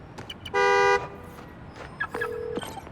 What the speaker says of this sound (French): Le klaxon va mener à la voiture.